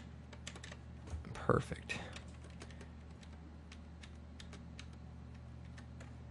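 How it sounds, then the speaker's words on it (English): Computer keyboard keys pressed in a quiet room, a brief cluster of taps with one louder burst, then scattered light clicks continuing over a low steady hum; a single spoken word briefly. "I'm just hitting page down and just going through it"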